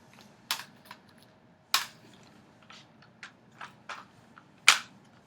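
Folding stock of an Egyptian Maadi AKM rifle clacking through a quick series of sharp metallic clicks and snaps, a few louder latch strikes among lighter rattles, close and alone.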